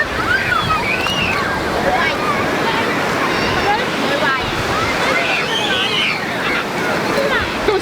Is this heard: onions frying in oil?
no